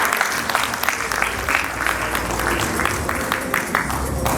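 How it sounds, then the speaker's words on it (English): A gala dinner audience celebrating fifty years of pharmacy at the University of Nairobi applauds in a dense, steady wave of clapping that lasts several seconds without talking. "So let's clap for ourselves."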